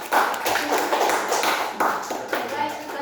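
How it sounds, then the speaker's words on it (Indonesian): Classroom audience clapping for a student group after a presentation, a dense burst of hands clapping with voices talking over it. "silakan tepuk tangan untuk kelompok 2"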